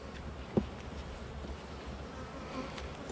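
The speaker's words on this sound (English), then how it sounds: "Bees are very calm." Honeybees hum at an open hive during an inspection, a steady low, fairly faint drone with one brief knock or thump near the start and no talk.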